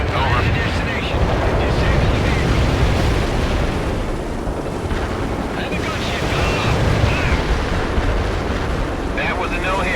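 Artillery fire booms and rumbles continuously in the strategy game World in Conflict, with dense, roaring blasts under intermittent radio-style voices.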